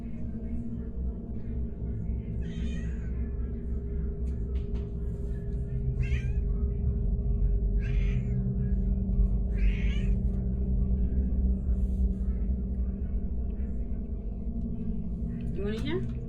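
A cat meows several times, spaced out and moderately close, over a steady low rumbling hum, with some speech mixed in.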